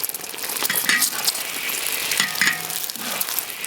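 An egg hits hot oil in a wok and starts to fry, giving a loud, continuous crackling sizzle with a few light metallic clinks from the pan.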